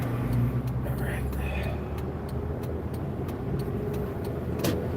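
Steady road traffic passing during a morning drive, a continuous low rumble of car engines and tyres with faint ticking sounds over it, fairly close and without speech.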